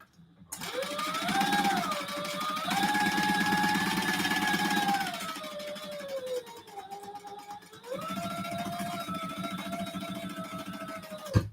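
A sewing machine basts stitches around the edge of a crossbody bag: a steady, close motor whir with rising and falling pitch as speed changes, pausing briefly before running again.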